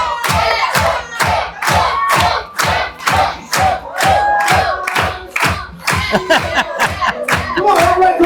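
A crowd at a lively dinner venue claps in a steady, loud rhythm with cheering and shouts over dance music, the beat-like claps repeating evenly throughout.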